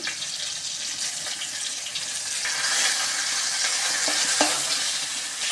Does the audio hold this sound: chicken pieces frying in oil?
yes